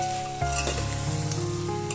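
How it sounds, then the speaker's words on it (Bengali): Ginger, garlic and cumin paste frying in a hot pan, a steady close sizzle with a brief stirring scrape partway through, no voices. "আদা রসুন আর জিরে বাটাটা দিয়ে কিছুক্ষণ আমি ভাজা ভাজা করে কষিয়ে নেব"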